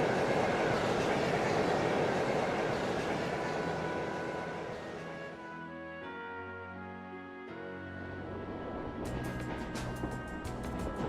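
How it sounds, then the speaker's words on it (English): Train rolling along rails in the video game Trails of Cold Steel, a steady broadband rumble with faint rhythmic clatter that dips quieter midway and then swells again, with no talking. "We're on a train."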